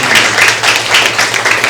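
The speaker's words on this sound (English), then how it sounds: "Please give a great round of applause for these two individuals" A live audience claps together in a dense, steady burst of applause, close and loud throughout with no voices over it.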